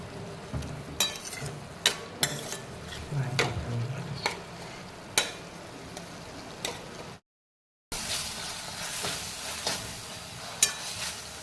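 Grated paneer dropped into a frying pan and stirred, with a steady soft sizzle and scattered scraping and tapping of the spoon against the pan. A brief silent gap comes before the frying resumes.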